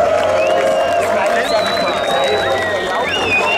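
An outdoor festival crowd applauds and cheers a band introduced on stage at a motorcycle event, with dense clapping and whistles under a continuous hubbub, loud and close throughout.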